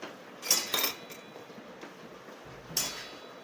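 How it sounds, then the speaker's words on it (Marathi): A spoon mixes and sautés vada filling with coriander powder in a pan, a few distinct metallic scrapes and clinks against the pan over a quiet background, no speech. "आता मिक्स करून चांगलं घेते चांगलं परतून घ्यायचं आहे"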